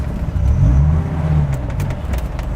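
A Dodge Viper creeps over an obstacle with a deep, steady engine rumble that swells briefly near the start and then settles, close and loud, with no talking.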